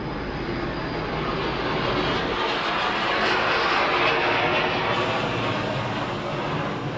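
A truck's air brake compressor runs steadily as pressure builds toward governor cutout, a loud continuous mechanical roar that changes character partway through; no one speaks.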